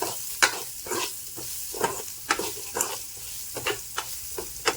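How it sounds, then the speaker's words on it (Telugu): Beetroot salted and frying in a pan, stirred with repeated scraping strokes over a steady close sizzle, no voices. "సో సాల్ట్ వేసాం కాబట్టి మనకి త్వరగా ఫ్రై అయిపోయింది"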